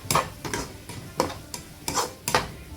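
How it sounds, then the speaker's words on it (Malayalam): Sliced onions sautéing in ghee and oil, with regular scraping stir strokes about every half second over a low, steady sizzle, close and fairly loud, with no voices. "സവാള വാടി തുടങ്ങുമ്പോൾ അതിലേക്ക് 1 ടീസ്പൂണ് നെയ്യ് ഒഴിച്ചു കൊടുക്കുക. എന്നിട്ടിത് വാട്ടിയെടുക്കുക"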